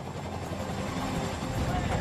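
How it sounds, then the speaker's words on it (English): Helicopter climbing near a mountain, a dense continuous rotor and engine roar heard close and loud, with a voice speaking over it. "force the chopper to ascend only results in a gradual climb"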